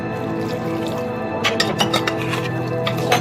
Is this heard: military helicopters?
no